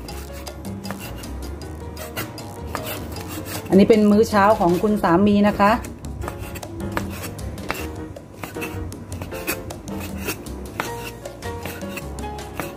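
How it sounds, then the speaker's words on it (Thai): Betagro sausage chopped with a knife, a run of soft irregular cuts and clatters beneath someone speaking Thai throughout. "พี่ปูมีไส้กรอกนะคะของเบทาโกอยู่นะคะพี่ปูหั่นเลยแล้วกัน"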